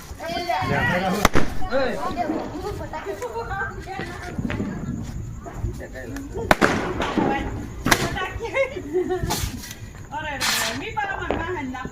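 Diwali firecrackers crack sharply a few times at irregular intervals amid lively talking and background commotion.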